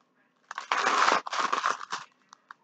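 Silver glitter paper is handled and crinkled up close, giving a couple of dense crackling bursts followed by a few short, sharp rustles and then quiet.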